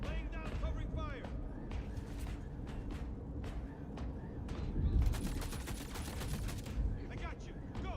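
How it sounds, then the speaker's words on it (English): Gunfire in the Star Citizen video game: scattered sharp shots, then a fast automatic burst of covering fire, loud and close, with voices and game noise underneath. "Laying down covering fire."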